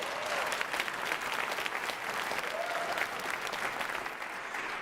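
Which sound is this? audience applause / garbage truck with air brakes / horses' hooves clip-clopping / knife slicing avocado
audience applause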